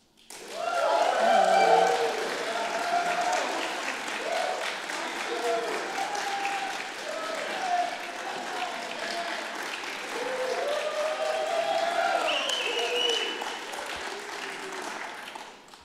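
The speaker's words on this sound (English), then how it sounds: "We can have applause and approving sounds." A live convention audience at a gaming fanfest breaks into sustained applause with cheers and approving shouts, loud and steady for about fifteen seconds before tapering off.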